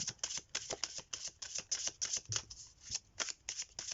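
Tarot cards are shuffled for a love reading: a steady run of quick, close papery riffles and slaps that repeat rhythmically for several seconds, with no voice.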